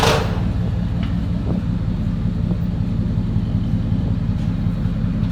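A 1990 Chevy Silverado 5.7L V8 with dual Flowmaster 40 series exhaust idles close by, a low, steady, throbbing rumble.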